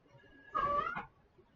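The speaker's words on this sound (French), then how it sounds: "elle miaule parce qu'elle se court après" A cat gives one short, close meow while chasing and play-fighting with another cat indoors, a single tonal call rising then falling, alone against quiet background.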